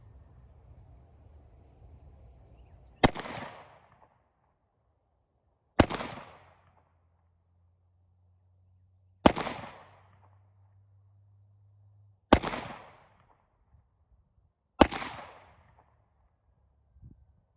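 A Glock 43 and a SIG P365 fire at an outdoor home range: five sharp, loud pistol cracks, spaced a few seconds apart, each with a short ringing tail over faint low background hum.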